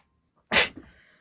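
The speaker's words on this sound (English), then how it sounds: "I had to sneeze" A single sharp sneeze bursts out close and loud after near silence, then fades quickly.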